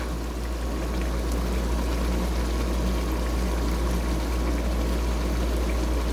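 Water pours steadily into a pot of simmering meat and tomato stew, a continuous close rushing hiss that holds evenly for about six seconds with no one speaking.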